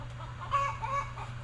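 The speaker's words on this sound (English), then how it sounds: "The chickens are in the yard right now" Chickens in a yard give short clucking calls, with a pitched tonal call standing out over a steady low hum, close and moderately loud with no talking.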